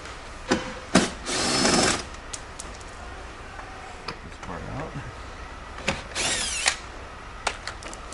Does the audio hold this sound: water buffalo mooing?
no